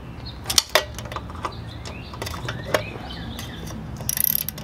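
A ratchet with a 10 mm socket works on an engine bolt while a Puch E50 engine is removed from a moped, giving close, quick clicking ratchet strokes in short bursts alongside metallic clinks.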